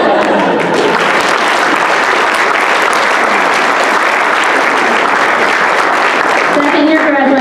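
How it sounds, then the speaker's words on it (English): Audience applause at a youth leadership graduation ceremony for a graduating student, a loud dense wash of clapping from a full room, sustained evenly across the whole stretch. "You gotta clap this one."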